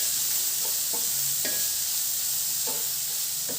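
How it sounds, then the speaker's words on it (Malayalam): Dried prawn spice mixture frying in coconut oil, a steady close sizzle broken by several scraping stir strokes of a spoon in the pan, with no talking. "ഇനി ഇത് നന്നായിട്ടൊന്ന് മൂപ്പിച്ചെടുക്കാം."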